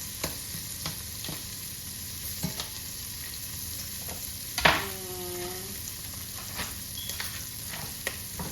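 Butter melts and sizzles in a frying pan for fried catfish, a steady soft crackling hiss that runs throughout, with a light clank of a utensil against the pan partway through.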